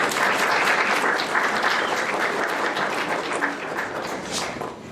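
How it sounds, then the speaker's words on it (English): An audience applauds its board members at a historical society annual meeting, steady and loud, a dense wash of clapping hands that holds for several seconds before easing slightly. "let's give them a round of applause for our board members."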